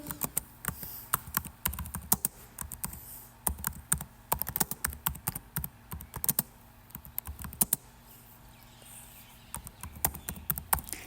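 Typing on a computer keyboard, with quick irregular clicking bursts broken by short pauses, close and fairly quiet, with no talk.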